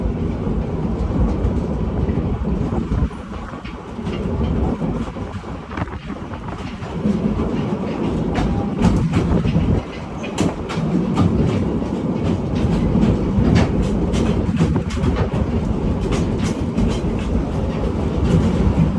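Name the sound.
train running on rails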